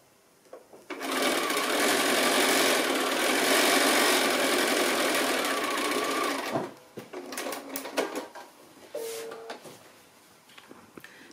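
A sewing machine runs a quarter-inch seam across a quilt block in one steady, loud, close burst of about six seconds, followed by softer handling clicks and rustling of fabric.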